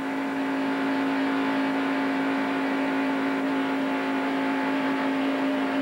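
NASCAR Winston Cup stock cars race at Daytona in the 1990 Gatorade Twin 125s, their engines forming a loud, continuous, steady roar without distinct pass-bys.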